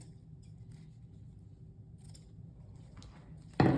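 Material scissors trim the ends of a Christmas pudding wreath. A few faint snips sound over a low background hum, followed by one louder, sharper cut at the very end.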